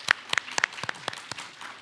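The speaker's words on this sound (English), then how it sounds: "So let's give the staff a round of applause." Scattered, sparse clapping at a county education budget forum, a handful of distinct claps from a small audience fading out within two seconds.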